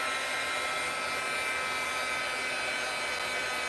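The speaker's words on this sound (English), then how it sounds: "I'm going to pull in my heat tool" A heat tool drying paint: a loud, constant blower whoosh with a steady electric whine that runs the whole time at close range, with no voices.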